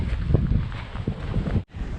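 Strong wind buffets the microphone with a constant low rumble and gusty thumps, cutting out briefly near the end.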